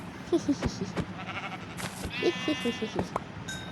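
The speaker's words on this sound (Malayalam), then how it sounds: "അവിടെ ഒരു ആട് നിൽക്കണുണ്ട്" A goat in the Minecraft video game bleats several times in short, nasal bursts, fairly close, over a soft game background with a few clicks, and a person speaks between the calls.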